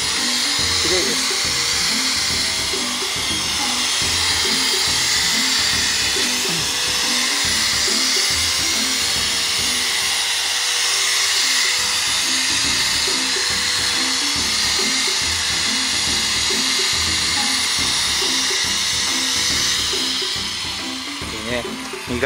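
A power polisher works on a used aluminium car wheel at a used-car shop, a steady, loud high-pitched whine that runs unbroken from start to end, with voices speaking underneath.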